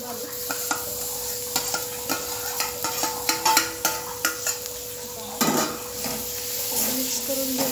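Mashed pumpkin being stirred into spices frying in a pan: a steady sizzle under rhythmic scraping strokes of a spoon against the pan, close and fairly loud, with a splashier push of food partway through.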